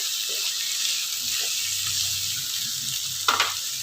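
Pirandai (adamant creeper) sautéing with other ingredients in a pan, a steady soft sizzle with occasional light stirring clicks and a short clatter near the end.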